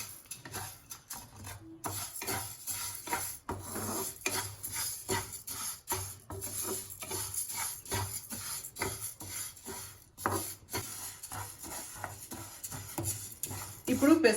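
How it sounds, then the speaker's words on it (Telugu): Moong dal dry-roasting in a hot pan for hotel-style pongal, stirred with a utensil that scrapes and rasps steadily across the metal, close and continuous, with a faint sizzle and no talking. "ఇందులోకి మనం తీసి పెట్టుకున్న పెసరపప్పుని వేసి వేపుకోవాలండి."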